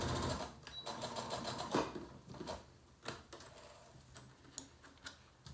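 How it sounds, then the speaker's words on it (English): A sewing machine top stitches near the edge of fabric layers on a triangle zip pouch, running in short, close, rapid stitching bursts with small ticks and pauses between them. "You top stitch about 1/2 centimetre, if not a little bit less, from the edge of your fabric."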